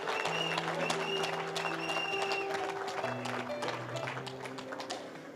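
A church congregation claps and cheers during an evangelistic service, a steady patter of applause under sustained musical tones, gradually thinning and fading toward the end.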